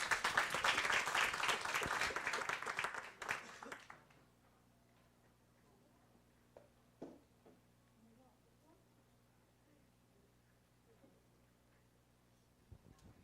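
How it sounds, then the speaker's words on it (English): Audience applause fills a lecture hall on disinformation and media literacy, a dense, loud burst for about four seconds before it stops abruptly and gives way to quiet room tone with a few faint knocks. "Please give a round of applause for Miss Dawn."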